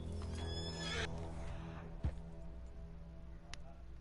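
A horse in the GTA RP video game whinnies loudly at the start, then a single hoof thud follows, with a few faint clip-clops after it over a low game background hum.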